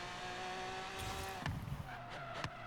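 A car in Forza Horizon 3 holds a steady engine drone, then breaks into rough tire scrubbing and skidding bursts with sharp transient clicks. Everything sits loud and close.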